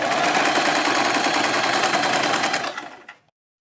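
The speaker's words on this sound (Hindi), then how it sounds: "हम सबसे पहले यहाँ से यहाँ तक एक सिलाई लगाएंगे।" Sewing machine stitching a neckline on a garment, a loud continuous rapid whir running steadily for about three seconds before winding down and stopping.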